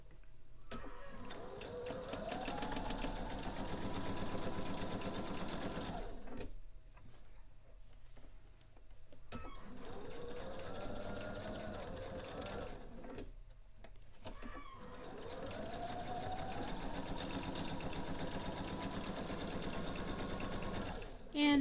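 A sewing machine stitches quilt rows together in three long, steady whirring runs separated by short pauses, moderately close, with someone talking quietly at times.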